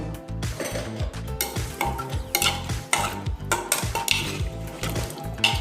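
Washed pumpkin is stirred into cooked lentils for a Kerala erissery, a spoon scraping and clanking rhythmically against the pot over a soft sizzle, close and with no voices.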